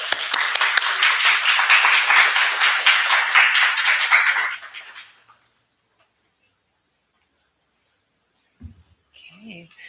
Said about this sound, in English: If you could help me receive Morgan with a warm round of applause.